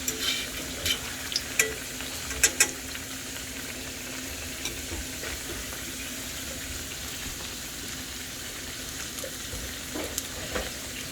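Cheese-filled Puerto Rican-style empanadas (pastelitos) fry in a pan of oil, giving a steady close sizzle with scattered sharp pops and crackles.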